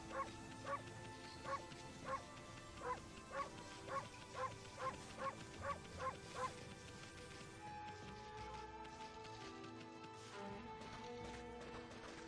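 A rapid string of about a dozen evenly spaced dog barks from the video game Okami over game music, followed by the music carrying on alone.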